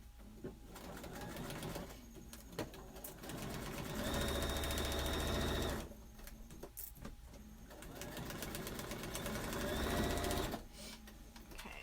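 A sewing machine stitches a quilt block in two long steady runs, each several seconds long, with short pauses and handling noise in between.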